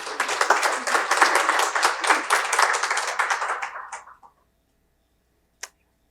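An audience at a research collaborations day applauds to welcome a speaker, with dense clapping for about four seconds that fades out, then a single sharp clap.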